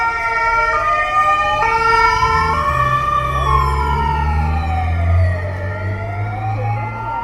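Several wailing and yelping sirens from a police motorcycle, police car and ambulance overlap loudly and continuously in Copenhagen, rising and falling in pitch over the rumble of nearby traffic.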